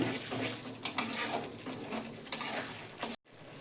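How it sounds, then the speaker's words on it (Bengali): Sour yogurt cooks down over low heat in a pan, with intermittent scraping and clinking of a spoon against the metal and a soft, faint sizzle beneath, for a jackfruit and shrimp curry. "পুরো গ্যাসটা লো করে দিলাম টক দইটা আমি এবার কষে নেব"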